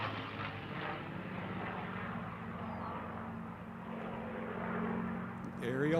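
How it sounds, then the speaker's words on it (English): A P-51 Mustang propeller plane flying at the SUN 'n FUN air show gives a faint, distant, steady engine drone that swells slightly near the end. "Ariel Ludi will be in with the P-51 he calls a Little Witch"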